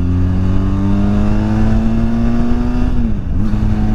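A 2023 Benelli TRK 502 X 500cc motorcycle engine pulls steadily under acceleration, its rising tonal drone continuous and close, then dipping briefly near the end as a gear shifts before resuming.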